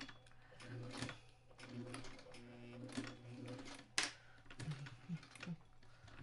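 A sewing machine fitted with a new, sharp needle stitches a quilt carrier, its needle chattering up and down in short bursts with pauses between runs, set fairly close and moderately quiet.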